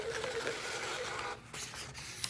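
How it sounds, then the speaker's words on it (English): A printer runs off a final invoice with payment and signature applied, a steady mechanical whirring and rattling nearby that briefly dips, then resumes with a small click at the end. "So it's going to print out the final invoice with the payment applied and the signature applied."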